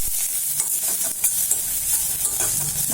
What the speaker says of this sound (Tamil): அதில் பச்சை மிளகாய் போட்டு சும்மா லேசாக வதங்கின உடனேயும் பச்சை மிளகாய் போட்டுருக்கு